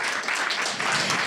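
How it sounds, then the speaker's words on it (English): Brief burst of audience applause at a reading, close and fairly loud clapping from a small crowd lasting just over a second. "can we give a round of applause for Pietro"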